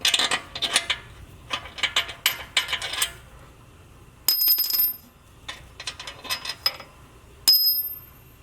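Metal sockets clink and rattle as they are sorted and picked out in a shop, short bright jangles and scrapes in irregular bursts with quiet gaps between them.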